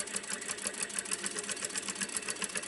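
A sewing machine stitches along the edge of a recycled denim pouch, running at a steady fast rhythm with a continuous, evenly pulsing mechanical whir close by.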